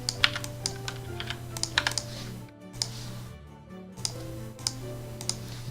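Typing on a computer keyboard: a steady patter of clicking keystrokes in irregular bursts, close and fairly clear over a low hum, with a short pause midway and no talk.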